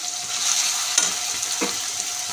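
Chopped onions and chillies fry in a pan for a tomato curry, giving a steady close sizzle with a couple of faint stirring scrapes and no talking.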